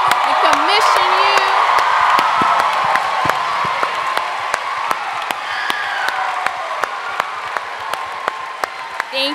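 A chapel audience at a university morning service cheers, whoops and claps for graduating seniors, a dense, steady roar of crowd noise with shouts and applause lasting throughout.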